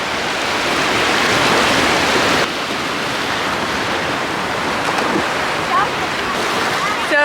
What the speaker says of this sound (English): always lots of ocean noise